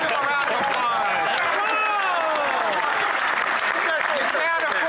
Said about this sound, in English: Come on, give him a round of applause.